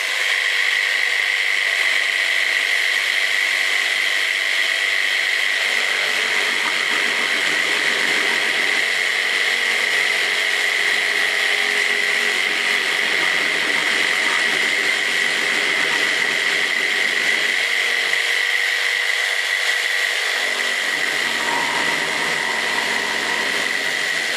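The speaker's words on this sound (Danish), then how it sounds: "er vi klar til at save." A jigsaw cutting oak wood gives a steady, loud buzzing whine that runs continuously throughout, a sustained mechanical drone with slight shifts in tone, no voices.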